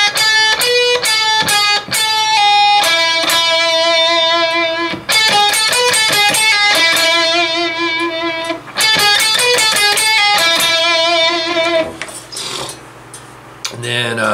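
A slowed-down distorted electric guitar lick, played as a lesson demonstration: loud, close sustained notes with pull-offs and vibrato on the final held bends, two short pauses, then a fading tail.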